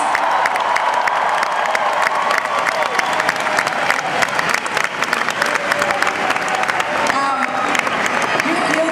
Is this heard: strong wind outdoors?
no